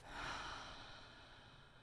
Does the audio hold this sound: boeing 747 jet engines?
no